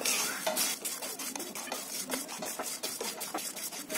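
Whole spices such as black pepper being stirred and dry-roasted in a pan over a medium flame for Konkani masala, giving quiet, repeated scraping and rattling strokes close by.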